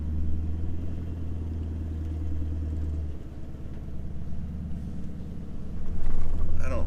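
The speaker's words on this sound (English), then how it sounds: "I am just crawling up right now in first low." A 4x4 crawls in first low gear with front and rear diff locks engaged over sandy melon holes on Dirk Hartog Island, giving a steady, close, low engine rumble that swells briefly near the end.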